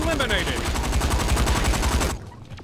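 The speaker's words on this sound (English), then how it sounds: "Oh shit, they're shooting stuff at us now." Rapid automatic gunfire in Saints Row IV rattles loudly and continuously for about two seconds, then cuts off abruptly.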